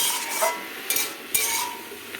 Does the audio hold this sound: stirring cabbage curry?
yes